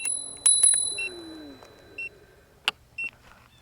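A few short, bright bell-like pings from a Fifth Wheel V40 Pro electric scooter's bell ring out, spaced unevenly over a quiet background hum.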